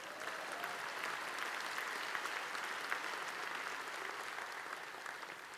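Steady, sustained audience applause fills a ceremony hall at the 2018 Annie Awards animation event, a dense even wash of clapping with no pauses.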